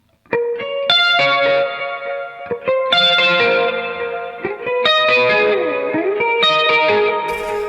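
Electric guitar played through a Fender Super Reverb '65 reissue amp with a delay pedal, the mix knob set low so it pushes the amp's front end. Ringing chords and single notes come with soft echo repeats and reverb, heard alone and loud.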